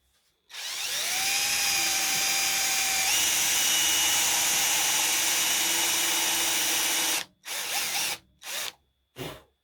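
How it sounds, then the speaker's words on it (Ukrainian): A power drill bores into wood with a Forstner bit while making a wooden door, a loud steady whine running for several seconds before stopping, then three short bursts of drilling follow. "Отай сверлим якраз, щоб тільки шуруп сховався."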